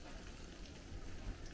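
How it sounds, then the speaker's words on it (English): Donuts frying in hot oil give a steady, low-level crackling sizzle that runs evenly throughout, fairly faint with no voices over it. "So here's some frying currently."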